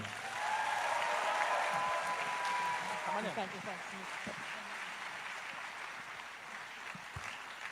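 An audience applauds the 100% Penang show, full clapping that swells then gradually thins out, with a brief tone at the start and voices emerging as it fades.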